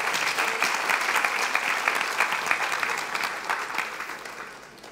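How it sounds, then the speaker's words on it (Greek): Audience applauding after a lecture, a full room of hands clapping densely and loudly before gradually thinning out toward the end. "Να του δώσουμε κι άλλο ένα δυνατό χειροκρότημα,"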